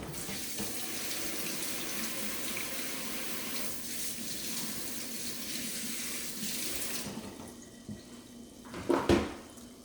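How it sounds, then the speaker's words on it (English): A kitchen faucet runs steadily into a sink as hands are washed, a constant close hiss of water for several seconds before it shuts off, followed by a couple of brief clunks and splashes. "So I'm going to wash my hands again."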